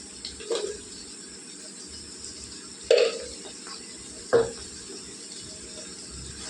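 A spoon stirs cabbage and onion with turmeric and salt in a pan, making three separate scraping strokes over a faint, steady background hiss, close and fairly quiet, with no speech.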